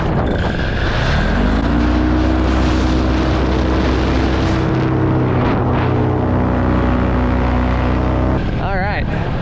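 Small airplane lining up to land near a farm pond in Northeast Kansas: a loud, steady engine drone and propeller hum with a shifting pitch, with a voice talking over it.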